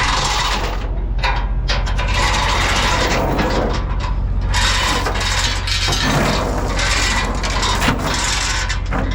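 Chain binder being ratcheted to tie down a machine on a pickup trailer in rainy weather, a continuous run of metallic clicking and grinding strokes with rubbing chain, close and loud over steady truck idle.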